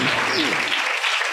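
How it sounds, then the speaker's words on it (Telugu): A church congregation claps together during a worship service, loud, continuous applause with a voice briefly heard over the start. "చప్పట్లు కొట్టండి."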